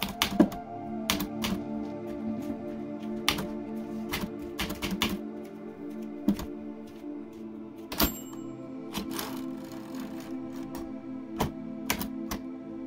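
Keys striking on a vintage 1970 SCM Smith Corona Super G manual typewriter, sharp irregular clacks over a steady hum, with a bell ding and carriage sounds partway through, close and clear.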